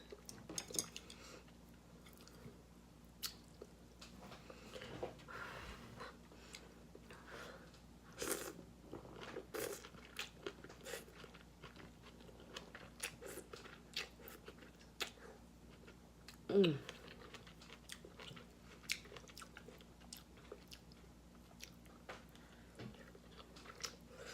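Close, quiet chewing of vegan leftovers soup with rice and broth, with soft wet mouth sounds, small crunches and occasional spoon clinks against a bowl over a faint steady room hum.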